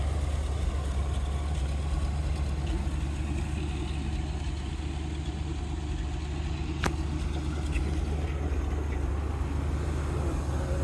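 1964 Chevrolet Corvette coupe with its original 327 V8 idles steadily, a low, even rumble held close and constant throughout with no talk.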